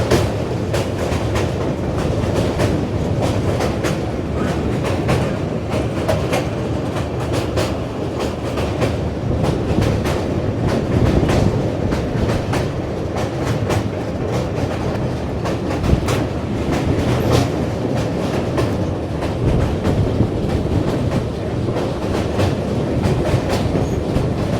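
Rajdhani Express train crossing the Dayang river on the way to New Haflong station, with a steady, loud rumble of wheels and a rhythmic clickety-clack of the rails that carries on without a break.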